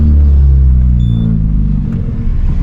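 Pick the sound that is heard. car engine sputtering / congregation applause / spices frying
car engine sputtering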